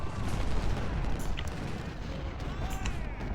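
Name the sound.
sniper gunfire in the Ultimate General Civil War video game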